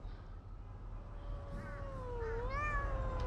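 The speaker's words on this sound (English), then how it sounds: "it sounds like a cat" A cat meows repeatedly in the video game Thirty Flights of Loving, a series of rising and falling wails over a steady low hum, growing louder and more drawn out toward the end.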